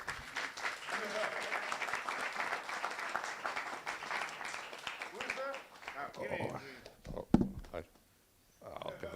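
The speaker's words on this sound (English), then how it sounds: "Round of applause, please." Audience applause at an open source conference session, a dense spread of clapping with voices mixed in, thinning out near the end before a short silence.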